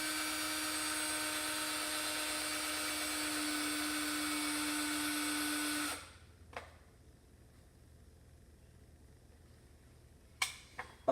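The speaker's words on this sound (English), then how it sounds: "it might be helpful to turn your drill the right way" An electric drill runs at a steady whine while boring into a quarter coin for a ring, then cuts off abruptly, leaving quiet room tone broken by a few faint clicks and knocks.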